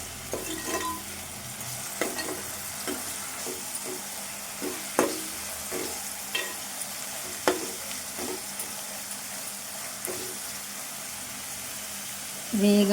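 Ginger garlic paste fries in hot oil in a pan for a dried fish curry, a steady close sizzle with repeated scraping strokes of a spoon stirring it, and no talking.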